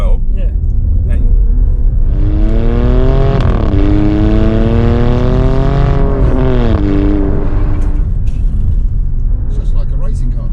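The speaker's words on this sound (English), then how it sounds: "Now we're into race mode. Yeah, which comes up on the screen, and now you'll hear the exhaust" Alfa Romeo Stelvio Quadrifoglio exhaust in race mode, a loud continuous engine drone rising and falling in pitch through revs, heard from inside the car under steady road rumble while people talk over it.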